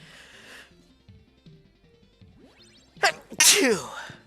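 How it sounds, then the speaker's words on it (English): A single sharp human sneeze bursts out loudly near the end, over soft chiptune music from the SNES game Home Alone that plays quietly throughout. "I don't know if you heard that, but I sneezed."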